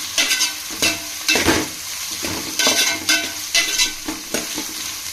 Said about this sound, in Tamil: இப்போ இது கூட வெங்காயத்தை ஆட் பண்ணிக்கலாம். நல்லா ப்ரௌன் ஆகிற வரைக்கும்